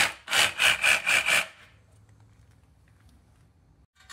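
A battery-powered cutting tool slices into an aluminum rim, cut up for casting with a cardboard box catching shavings, giving five quick, loud rasping strokes over about a second before fading to a low, quiet hum.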